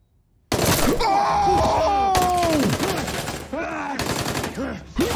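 Gunshots in a scene from the TV show The Boys arrive in loud bursts after a silent start, with dramatic tonal sounds and groaning voices mixed over the shots.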